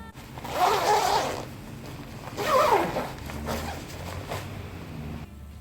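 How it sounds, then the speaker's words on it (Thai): A clothing zipper is pulled twice in loud, close rasping strokes, followed by a few shorter, quieter zips and faint rustling. "เสียงรูดซิป"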